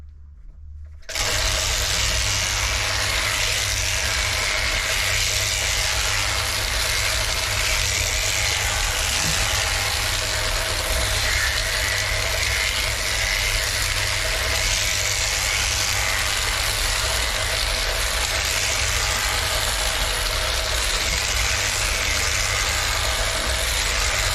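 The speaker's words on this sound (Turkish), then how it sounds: "Şöyle hafif elimizle gerdirmekle yünler aralandığı için makine çok daha rahat kırkacaktır" A shaft-driven sheep shearing machine runs continuously as it clips wool from a sheep, producing a steady, loud mechanical buzz and hum that starts abruptly after a brief quiet moment and carries on without talk.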